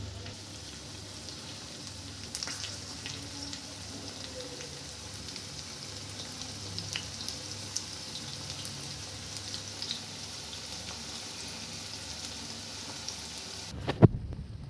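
Chicken pieces fry lightly in a pan, a steady soft sizzle with scattered crackles and pops running throughout, moderately quiet, then cutting off near the end with one sharp clatter.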